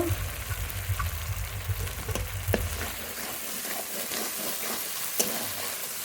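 Spice paste (masala) sautéing in oil, a continuous frying sizzle with a low rumble at first, then lighter crackles and a few sharp clicks of a utensil against the pan.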